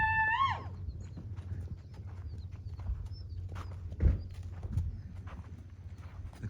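A stallion whinnies loudly at the start with a high, wavering neigh, followed by scattered hoofbeats on the ground as the horse approaches at a run, including one heavier thud near the end.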